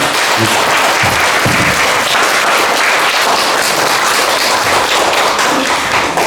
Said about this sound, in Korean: 우리 모두 큰 박수로 김누리 선생을 모셔보겠습니다